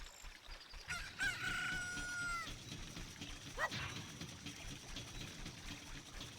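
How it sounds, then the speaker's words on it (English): A rooster-like crowing bird effect from the video game The Legend of Zelda: Ocarina of Time, a single stretched crow rising over steady game background sound, moderately loud and with no voices. "isn't that the same bird sound effect from Banjo-Kazooie? Like, the same vulture sound effect?"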